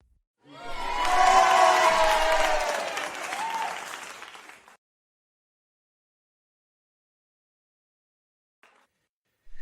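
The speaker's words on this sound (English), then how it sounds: "give him a big round of applause" A small speech club audience claps to welcome a first-time attendee, a brief burst of applause mixed with a few cheers lasting about four seconds before falling silent.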